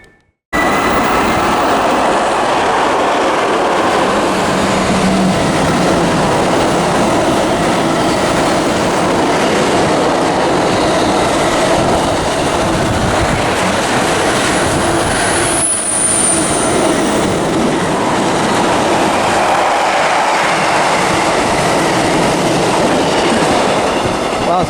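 A pair of Class 86 electric locomotives hauls a train through Romford station on the Great Eastern Main Line, a loud, continuous rumble with clattering wheels and a brief high squeal midway, close by for the whole pass.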